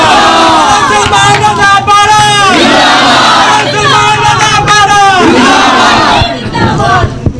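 A large crowd at an outdoor political rally in Pakistan cheers and chants in unison, loud and close, with rising and falling shouted voices sustained throughout.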